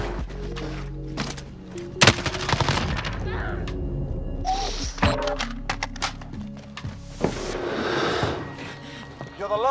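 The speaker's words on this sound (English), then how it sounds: "I'm getting shot from everywhere." Gunfire in the Modern Warfare video game, with a sharp shot and bursts of automatic fire mixed with thuds and clatter, fairly loud and close over steady background game noise.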